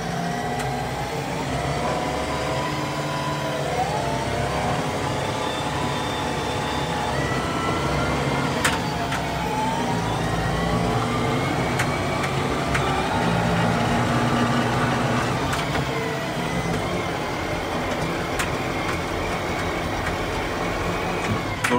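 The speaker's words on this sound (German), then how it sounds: "So, wenn ich jetzt Gas gebe, dann schaltet das Getriebe selber hoch." Steady engine drone of a McCormick X4.100F tractor with automatic P3-Drive transmission, accelerating as it shifts up through the gears; a loud, continuous mechanical rumble with subtle pitch steps and no talking.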